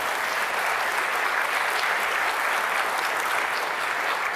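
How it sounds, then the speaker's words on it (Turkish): Dense, steady applause from a large audience fills the whole stretch at an even, loud level without letup. "Gayet kuvvetli geliyor alkış"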